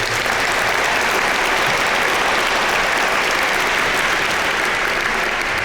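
An audience at a formal awards ceremony applauds steadily, with dense, even clapping that fills the room and holds without pause.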